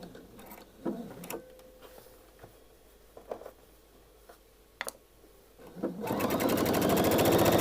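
A sewing machine stitches the facing of a dress, starting after a few handling clicks and taps and then running as a steady, fast, close mechanical whir to the end.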